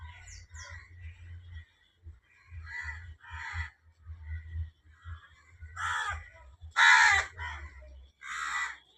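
Crows caw in repeated harsh calls, some near and loud, others fainter, with short pauses between bursts and no talking.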